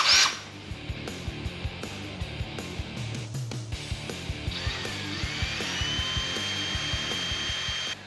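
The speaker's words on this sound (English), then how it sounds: "we're gonna start with 1 inch on a little bit smaller drill bit, pilot that thing in there, get her lubed up with a little bit of WD-40" A drill bores a pilot hole into a billet aluminum alternator and power steering bracket, lubricated with WD-40, a steady whirring grind with a rhythmic ticking pulse that rises into a sustained high whine partway through, close and loud, no talking.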